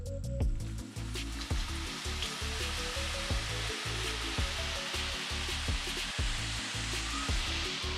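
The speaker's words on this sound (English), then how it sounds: "We're about to do the second fry." Fries crackle and sizzle loudly in hot oil during the second fry of chips smocha, a dense, continuous bubbling hiss with sharp pops and clicks throughout, no talking.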